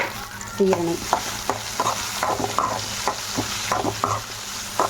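Ivy gourd sautés in a pan with mustard seeds, a constant sizzle under brisk, regular spatula scrapes and clanks against the metal, up close with no talking.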